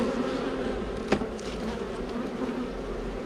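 Honey bees buzz continuously around an open hive after a freeze, a dense close hum with individual bees droning past, no talking.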